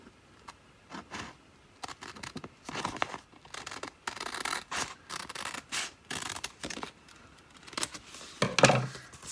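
Scissors snip through a sheet of printed Valentine's stickers, giving a series of close, crisp cutting and paper-rubbing sounds in short bursts, with a sharper crinkle near the end.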